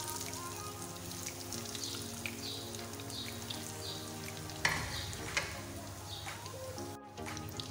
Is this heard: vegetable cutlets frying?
yes